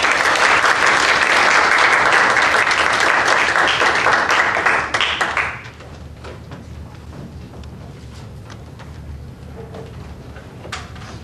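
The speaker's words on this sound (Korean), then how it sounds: "저희 박수로 모시겠습니다." Chapel service congregation applauding to welcome the preacher, a full, steady round of clapping for about five seconds that cuts off abruptly, leaving quiet room sounds and a few faint taps.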